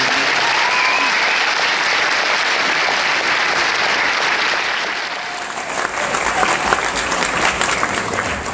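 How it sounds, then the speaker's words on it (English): Steady, loud applause from an audience at a 2012 school culmination ceremony honoring two teachers, continuous across the clip and swelling slightly with sharper claps near the end. "Can we have one more round of applause for our two amazing teachers?"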